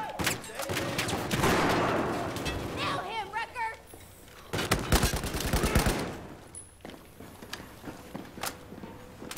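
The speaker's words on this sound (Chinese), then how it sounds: "88式轻机枪。" A Type 88 light machine gun firing in Battlefield 4, with rapid, loud bursts of automatic fire in several stretches, mixed with footsteps and other battle noise while voices talk throughout.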